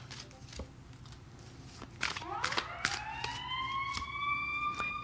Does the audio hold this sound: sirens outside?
yes